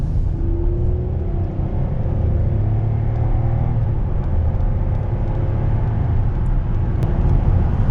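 A 2020 Chevy Colorado cruising at 70 mph in 8th gear below 2,000 RPM, giving a steady, low engine and road drone inside the cab with no talk.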